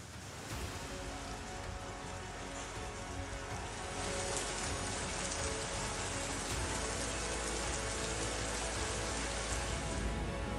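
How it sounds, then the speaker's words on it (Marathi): Heavy monsoon rain pouring down in Mumbai, a dense continuous hiss of rainfall on surfaces that grows slightly louder partway through, steady and enveloping, with no voices. "मुंबईत मान्सूननं मुसळधार सरींसह दमदार आगमन केलंय।"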